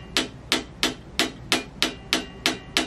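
An ARISTIDES 050 bass guitar, built from a new material with a chambered body, gives eight evenly spaced sharp percussive knocks with ringing resonance, each decaying quickly, alone and at moderate level.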